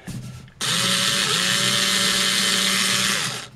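A power drill drives a short screw into a kitchen shelf with a loud, continuous whirring buzz for about three seconds, briefly dipping in pitch partway through, then winding down.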